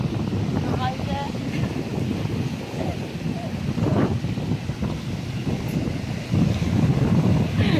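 Wind gusting at a bay, a steady rumbling buffet of air that nearly drowns the faint voices talking in the background.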